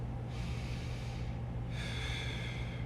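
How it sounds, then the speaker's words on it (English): Deep breathing during a neck and lats mobility exercise: a long, close, airy inhale followed by a slower, louder exhale through the nose, steady and alone with no talk. "So let's just do a nice deep breath again."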